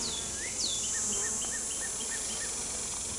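A continuous buzzing of honey bees from an open top bar hive fills the background while a bird repeats short chirping notes above it at a regular pace.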